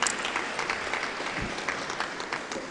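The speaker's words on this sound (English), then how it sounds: "I would ask you to please clap for them as well" Applause from the audience at a national council meeting on communication and digital economy, clapping for the judges; a steady patter of many hands, moderately distant, without talk.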